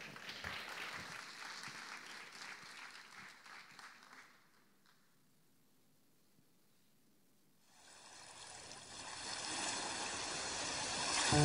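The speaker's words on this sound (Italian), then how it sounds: "facciamo un applauso" An audience at a talent concert applauds in a dense burst of clapping that fades into a near-silent pause, then a second round of applause swells and grows louder toward the end.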